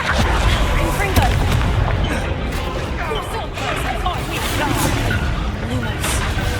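Confringo spell explosions in Hogwarts Legacy, a dense run of loud booms and blasts from a magical duel, sustained and heavy throughout, with speech mixed in.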